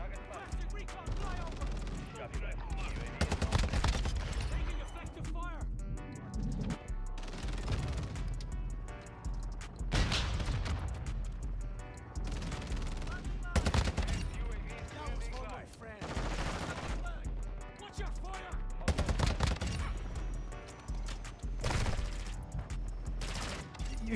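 Gunfire in Modern Warfare 2, with dense rapid bursts of automatic fire and shots repeating throughout a busy, loud firefight.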